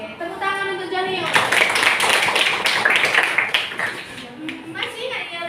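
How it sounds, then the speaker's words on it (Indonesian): A school class claps for a student named Jonio, a few seconds of lively group clapping that swells after an opening stretch of speech and then tapers. "Oke, tepuk tangan untuk Jonio."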